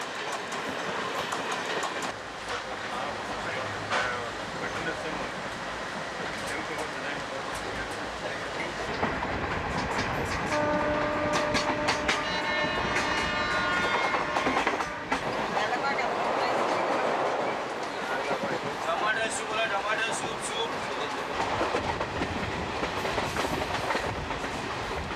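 Deccan Express train in India departing and running toward Neral, steady rolling clatter of wheels over rail joints with rising rumble and occasional metallic squeal, a voice narrating over part of it.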